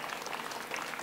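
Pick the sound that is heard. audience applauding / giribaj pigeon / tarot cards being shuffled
audience applauding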